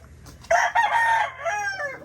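A gamefowl rooster on a farm gives a single clear crow with a long drawn-out tail, close by and alone.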